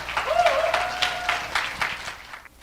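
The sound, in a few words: audience applause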